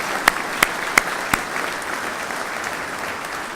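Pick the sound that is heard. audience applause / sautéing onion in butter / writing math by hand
audience applause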